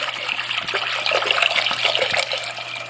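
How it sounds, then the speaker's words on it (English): Six cups of water pour steadily into a cooking pot, a continuous close splashing rush with a faint low hum beneath it and no talking. "I'm gonna pour 6 cups of water."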